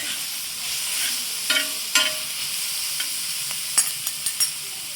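Onions browning in a pan for chicken sukka hiss with a steady, bright sizzle, punctuated by several short scrapes and taps of a stirring spoon, close and alone without speech.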